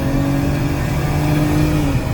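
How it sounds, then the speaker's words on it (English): A 2018 Dodge Caravan SE wheelchair-accessible minivan accelerates toward highway speed, its engine drone steady and loud over heavy road and wind roar with no talk. "If I get a little runway here, I'll pop it up to about 70 miles an hour so you can hear it run."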